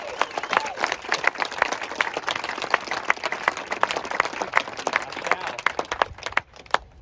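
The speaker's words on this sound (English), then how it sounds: "let's give a big round of applause for Dr. Love" At a democracy protest and march in Warrensburg, Missouri, a crowd applauds a speaker, with sharp, individually audible claps close by over steady clapping that tapers off near the end.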